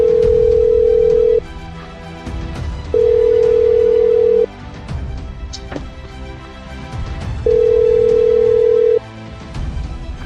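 An unanswered phone call rings out as a loud steady ringback tone, three long even pulses with pauses between, over a noisy outdoor background.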